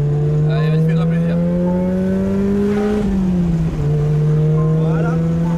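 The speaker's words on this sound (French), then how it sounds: "Est-ce que tu nous ferais pas un peu le turbo là?" A Ford Sierra RS Cosworth's turbo engine revs loud and close, pitch climbing steadily, then dropping at a gear change before climbing again.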